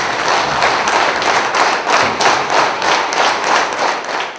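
Government officials applaud in a meeting hall, a loud, sustained round of clapping with a rhythmic, swelling pulse and no speech over it.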